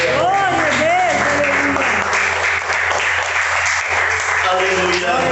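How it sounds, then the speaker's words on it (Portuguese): A church congregation bursts into sustained applause, loud and continuous throughout, while a voice calls out and sings over the clapping near the start. "Dê uma salva de palmas a Ele."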